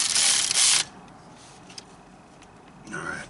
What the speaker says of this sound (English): Now, take and tighten him down.